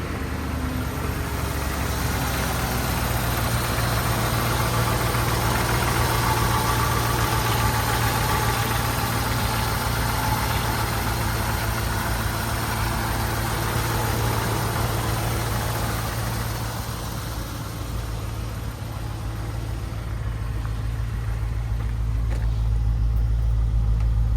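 A Dodge Ram W150 pickup truck, awaiting restoration, idles with a steady low rumble and a constant mechanical drone for the whole stretch, close by and alone.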